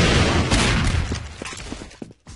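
RPG rocket launcher in a video game firing, a dense roaring blast that rumbles on for a couple of seconds before breaking into scattered debris thuds and fading.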